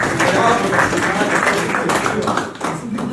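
Dense continuous applause from an audience at a crypto project presentation, loud and close, with voices mixed in.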